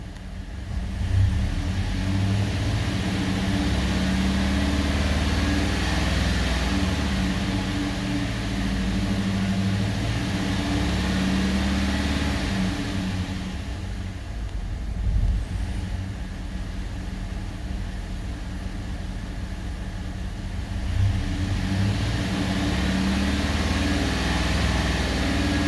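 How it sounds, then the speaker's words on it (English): A truck engine with a swapped cam revs under light throttle, heard from inside the cab: a steady low drone that swells and eases a few times, with no talking. "I'm gonna give it a little throttle, kind of let you listen from the inside of the cab"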